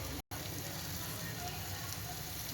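A mango and dried fish curry with chili powder and salt fries in a pan, giving a faint, even sizzle with a soft crackle that is broken by one brief gap near the start.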